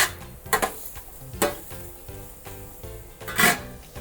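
Mushrooms sautéing in a hot pan crackle under a quick stir, with a few scraping, clattering strokes of the utensil over a constant close sizzle.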